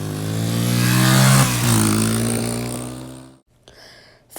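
A dirt bike engine, bump started in second gear, runs loud and close with strong revving, holding a steady roar before cutting off abruptly near the end, followed by a brief quieter burst.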